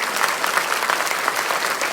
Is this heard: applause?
yes